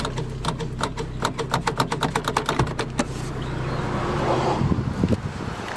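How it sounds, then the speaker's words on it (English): A car engine turns over with a rapid rhythmic starter crank for about three seconds, then catches and settles into a rougher running rumble, with no voices. "Trying to start the car."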